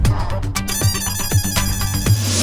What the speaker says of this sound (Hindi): मैं मेहता अंकल को फोन लगाता हूँ